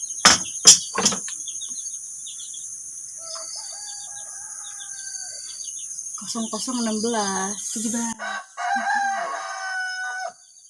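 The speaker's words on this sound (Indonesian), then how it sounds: "Banyak suara ayam." Roosters crow in the distance at midnight over a constant shrill insect drone, with a few sharp knocks at the start and brief speech near the end.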